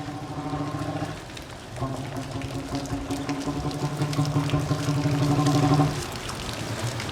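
First monsoon rain pours steadily, a dense wash of droplets splashing on surfaces that swells louder midway before easing back, with voices faintly present beneath the downpour.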